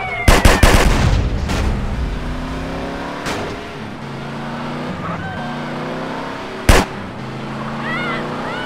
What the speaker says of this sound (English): I'm shooting at the damn blur, CJ!